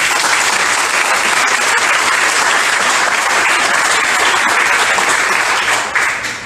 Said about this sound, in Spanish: Dale un aplauso al Señor si lo creen